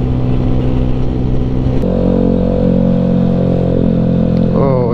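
A Keeway V Cruise 125 motorcycle rides along a highway, its steady engine drone loud and close throughout, with wind rush and a brief rise in pitch near the end.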